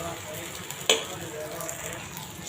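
Tomato rava dosa batter sizzles softly in oil on a hot griddle, a steady close crackle with one sharp clink partway through and faint talk nearby.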